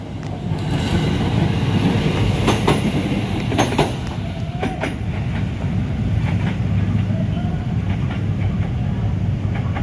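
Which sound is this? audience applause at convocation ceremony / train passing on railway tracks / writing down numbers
train passing on railway tracks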